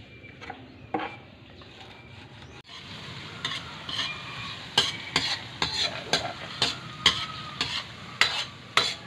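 Garlic is stir-fried in a pan: a steady sizzle runs under a series of sharp, rhythmic scraping and clacking strokes from the utensil, growing more regular and pronounced after the first few seconds.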